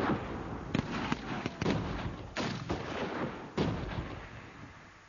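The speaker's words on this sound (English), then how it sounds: "Women and children fell victim to Boer shelling and rifle fire." Boer War shelling and rifle fire at the siege of Mafeking, a dense run of sharp gunshots and blasts going off in quick, irregular succession over a constant rumbling battle background.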